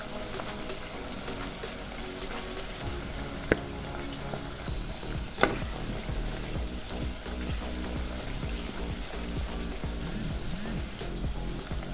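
Omena, small fish, frying in a pan with a pinch of salt, a dense crackling sizzle that runs continuously, close and loud, with a couple of sharp pops along the way.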